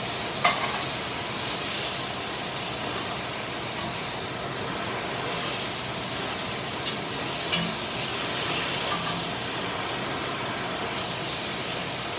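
Pork loin steaks sizzle in oil and butter in a cast iron chicken fryer, a steady loud frying hiss with a few small pops and scrapes running throughout, close and without talk.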